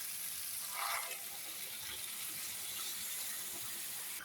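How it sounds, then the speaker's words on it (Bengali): Water poured into a pan of soya bean curry, a soft steady watery rush with a brief louder splash near the start, close by and otherwise continuous. "সবজি হয়ে গেছে, এখন জল দেবো"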